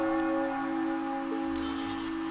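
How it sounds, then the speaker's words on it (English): A church bell in the video game Trails of Cold Steel rings with a steady sustained tone, held evenly at moderate loudness against a quiet background. "That bell ringing must mean it's 5 o'clock"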